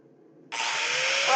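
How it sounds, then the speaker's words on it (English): A power tool cutting off a long rivet on a pair of blacksmith tongs starts abruptly after a quiet moment, then holds a loud, steady, harsh grinding whine close by until the end. "so we're gonna cut this rivet off"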